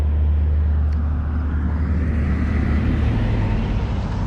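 Big trucks passing on a road at an intersection in Carrington, North Dakota: a loud, steady low diesel rumble and tire roar that swells slightly as the traffic goes by, with no voices.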